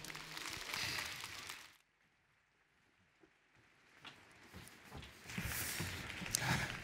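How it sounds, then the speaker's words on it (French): An audience at a women's forum applauds a theatre troupe, a full burst of clapping that breaks off into near silence and then swells again into loud applause. "Et on peut les applaudir bien fort."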